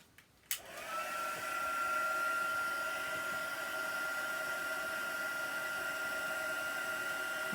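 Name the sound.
hair dryer drying chalk paste on frame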